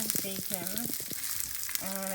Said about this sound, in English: I am frying it up in some leftover bacon fat, or bacon grease, or whatever you want to call it